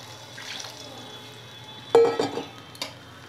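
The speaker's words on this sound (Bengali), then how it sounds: "এবার আমি এর মধ্যে পরিমাণ মতো জল দিয়ে দেব।" Water poured from a vessel into a pan of banana-flower dhoka curry in a home kitchen, a brief splashing burst with a couple of follow-up splashes over low kitchen background.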